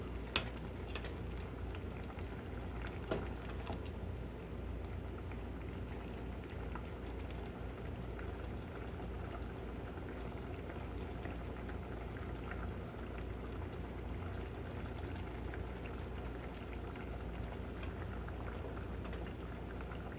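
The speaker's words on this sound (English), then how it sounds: "Let's go ahead and spoon us some soup." Hot and sour ramen broth is spooned into a bowl: a steady, close bubbling and liquid hiss runs throughout, with a few soft clinks near the start.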